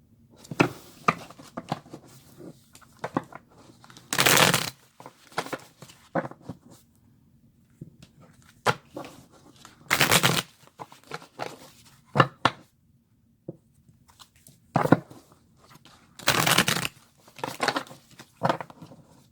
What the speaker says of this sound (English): let's shuffle these real quick too